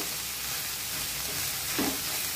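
Okra (bhindi) sizzles gently in a pan over a low flame, a steady soft frying hiss throughout with a brief stir near the end and no talking.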